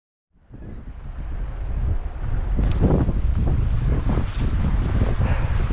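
Strong wind buffets the microphone on a beach during mudlarking, a dense, roaring rush that builds quickly and stays loud and continuous throughout.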